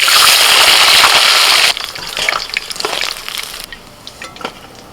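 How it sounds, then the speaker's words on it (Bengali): Potatoes fry in oil left over from frying catla fish, with a little salt and turmeric: a loud, dense sizzle that drops to lighter, spitting crackles and then to faint pops. "এবার আলুগুলো ভেজে নাও।"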